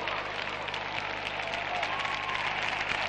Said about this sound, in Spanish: Y ahora aplaude la afición a Fran Ávila que llega al banquillo.